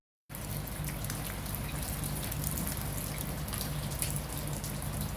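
Steady rain pours just beyond an open doorway during a heavy storm, a dense, even hiss with a pattering low rumble that holds continuously at a fairly close distance, with no voices.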